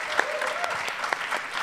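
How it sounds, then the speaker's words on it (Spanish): A short burst of audience applause greets a panelist at a Spanish-language talk on artificial intelligence and human creativity, with scattered distinct claps over a steady clapping texture. "Así que quiero que de nuevo le demos un fuerte aplauso a Julio."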